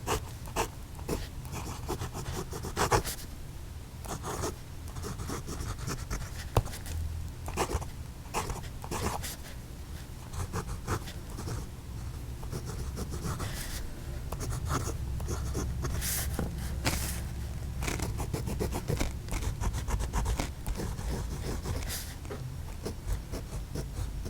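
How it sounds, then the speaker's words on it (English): A Hongdian 660 wood fountain pen nib writing with Sailor ink on paper, close and quiet steady scratching strokes with brief pauses between words. "let's see how this nib puts down that Sailor ink"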